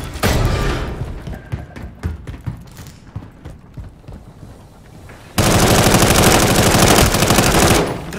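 Automatic gunfire from the shooter Call of Duty Modern Warfare III: ragged bursts of shots early on, then a sustained, loud, dense stream of fire from about five seconds until the end.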